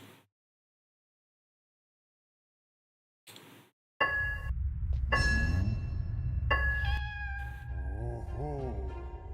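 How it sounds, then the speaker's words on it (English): A little black cat meows several times in the Everdeep Aurora game trailer. The cries are short and plaintive and come at intervals over a soft musical bed after a near-silent opening. "It's about a little black cat, and it looks really cute."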